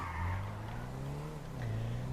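Car driven in GTA 5 Online, a continuous engine drone that rises and shifts in pitch, with tire noise and a bit of skidding on the road, steady with no voices.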